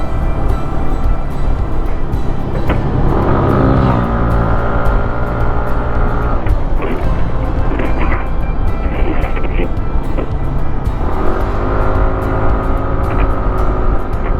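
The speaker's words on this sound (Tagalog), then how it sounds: "Bagal naman ang tricycle na to." A slow tricycle's motorbike engine drones loud and close while driving along a road, with rising and falling engine tones, rushing wind noise and occasional voices.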